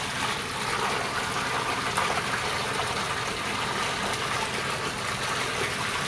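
Water pouring steadily into a small backyard fish pond as the water is changed, a loud, continuous gushing rush with no pauses or talking.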